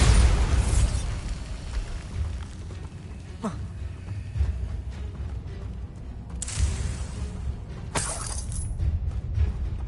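A Bombarda blasting spell erupts in Hogwarts Legacy, a loud booming explosion with shattering debris, followed by further blasts and crackling bursts amid continuous battle noise.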